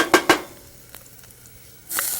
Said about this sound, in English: Now let's put our chilies in.